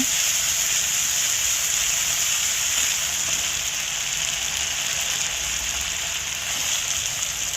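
Spices sizzling and frying in a pan for a Bengali vegetable curry with drumsticks, potato, eggplant and tomato, a steady, close hiss without a break that sounds like rain, with no talking.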